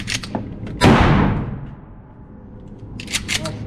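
A Mossberg Shockwave 590 12 gauge fires a single slug with one sharp, loud blast and a short decaying boom, followed by fainter handling clatter.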